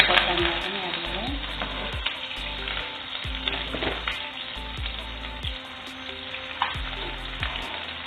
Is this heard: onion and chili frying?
yes